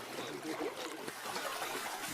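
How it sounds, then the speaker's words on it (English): Large koi splash and churn in water as a net is drawn in on a koi farm, a steady wet sloshing and trickling close by with no voices. "Once the net is pulled in, the backs and tail fins of the large koi slice through the water."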